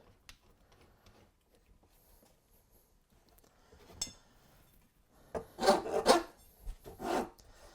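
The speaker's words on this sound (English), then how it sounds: "And then using the file in our hand." A hand file rasps against the end grain of a wooden sword in a few short, scratchy bursts near the end, after mostly quiet moments with faint handling noises.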